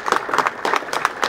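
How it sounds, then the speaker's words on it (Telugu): A small crowd at a short film premiere claps in uneven bursts, thin and fairly quiet, with a few distinct hand claps standing out. "మీరు అరుస్తున్న ఈ క్లాప్స్కి చాలా థ్యాంక్ యూ"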